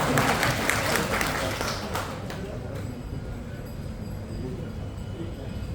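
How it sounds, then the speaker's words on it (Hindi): Audience applause at a company meeting of a multi-brand direct selling firm: a dense burst of clapping that starts loud, then thins and fades into a softer, scattered patter. "वाह, तालियां।"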